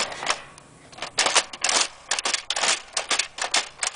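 Vintage Tomy Tutor toy typewriter being typed on, a run of sharp plastic key clacks in quick irregular bursts, close and clear with no talking.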